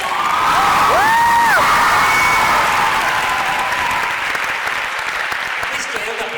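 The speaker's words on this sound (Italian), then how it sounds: "Questo è un applauso per voi" A hall full of young readers at a Rick Riordan event in Bologna claps loudly and steadily, with a brief high cheer rising over the dense applause before it gradually thins.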